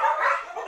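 Dogs barking as a comedy film sound effect, a short yapping burst with a whimpering, whiny edge, loud and close, heard alone.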